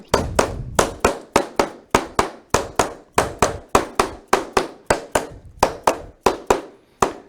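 Mallet blows hammering pieces down onto tape at a bowl-turning club meeting, about twenty sharp, evenly spaced thuds in a steady rhythm, loud and close with nothing else heard.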